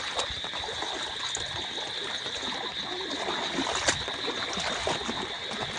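Rainwater runs through a farm field after heavy rain, making a steady hiss of flowing and trickling water with a few faint splashes, continuous and fairly close.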